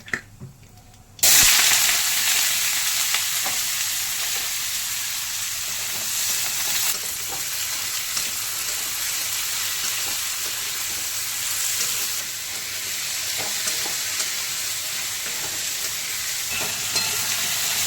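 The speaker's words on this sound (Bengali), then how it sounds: "সর্ষের তেল গরম হয়ে গেছে কালো জিরে ফোড়ন দিয়ে চচ্চড়ি করে নেব মানে আলুর চচ্চড়ি করবো" Potatoes drop into hot mustard oil with black cumin and burst into a loud, dense sizzle after a quiet second, hissing and crackling steadily up close with occasional stirring clatter.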